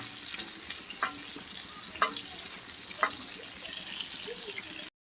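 Prawns frying in hot oil in a home kitchen, with a steady close sizzle broken by three sharp clinks or stirring knocks about a second apart, and no talking.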